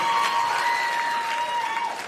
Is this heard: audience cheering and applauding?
yes